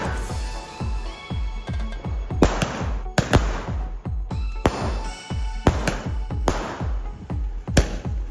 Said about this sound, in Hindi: तो अब हम एक दो पटाखे ट्राई करके आते हैं, कैसे जल रहे हैं।